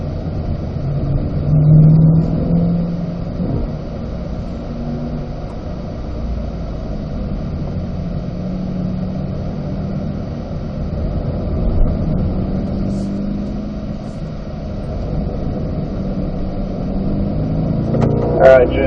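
Corvette C8 engine droning and revving on a racetrack, a continuous low engine roar that rises and falls with acceleration and downshifts, with an instructor's voice talking over it throughout.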